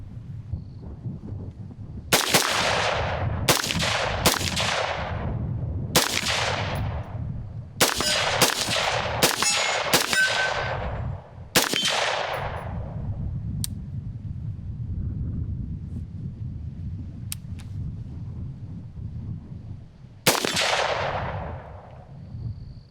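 Rifle shots from an AR-style scout rifle fitted with a scout scope ring out outdoors, about ten sharp cracks at irregular intervals, several in quick pairs and one after a long pause, each trailing a rolling echo over steady wind noise.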